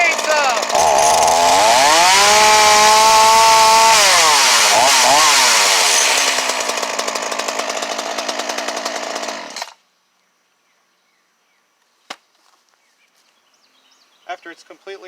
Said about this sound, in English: Okay, now you've got your chainsaw running.